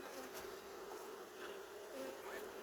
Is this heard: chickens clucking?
no